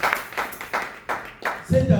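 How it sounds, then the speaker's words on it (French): A church congregation claps in praise, with about five evenly spaced rhythmic claps close by before a voice comes in at the end. "Applaudissez le Seigneur."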